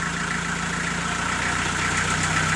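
A swapped-in BMC car engine runs in neutral with no drive, a steady mid-pitched hum with a fine rhythmic pulse, close and continuous, with no revving surges and no talking.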